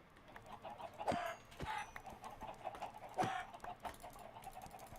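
Chickens in the Minecraft video game, kept in a farm: a few short, quiet clucks spaced irregularly over faint background noise.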